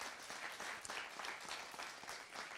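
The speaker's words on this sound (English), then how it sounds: "let's give a round of applause for everybody standing before you today" An audience at a postdoc research showcase applauds for the presenters, dense steady clapping heard faintly from a distance without a break.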